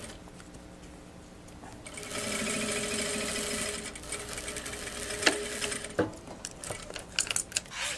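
A sewing machine stitches a shoulder bag seam with a straight-stitch presser foot, running steadily for several seconds, then a few clicks and taps as it slows.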